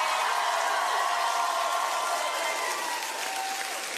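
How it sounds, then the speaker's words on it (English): An audience at a Taylor Swift event in Chicago in 2018 applauds in a steady, fairly quiet, crowded burst of clapping that holds evenly throughout. "So let's give a round of applause to them for us."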